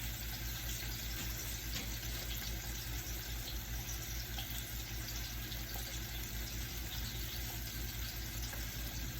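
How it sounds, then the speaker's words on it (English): Onions frying in hot oil in a home kitchen pan while braising beef short ribs, a steady, dense sizzle that stays constant and fairly loud without pause. "our oil is hot. When you cook, just remember, onions always go first."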